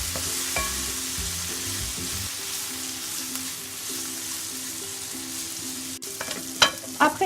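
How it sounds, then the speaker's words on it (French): Tofu sautéing in a pan for a coconut-milk vegetable curry gives a steady, close sizzle. A few clinks and stirring scrapes come near the end, and nobody speaks. "Le tofu. Et on fait revenir quelques minutes"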